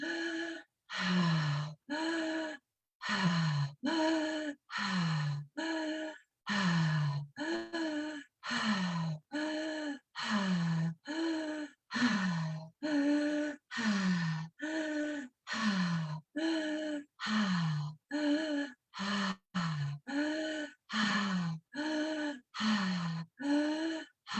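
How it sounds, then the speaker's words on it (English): Deep, rhythmic breathing exercise: about two dozen strong inhale-exhale cycles follow one another with short gaps, each breath loud, close and voiced with a gasping, sighing quality, with no talk between them. "So that inhale and exhale is one breath."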